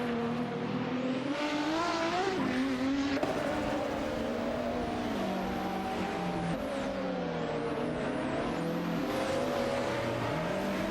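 Race cars in an AI racing video game, including a Bugatti EB110 LM and a McLaren, roar continuously as engines rise and fall through gears, several overlapping in a dense, loud pack.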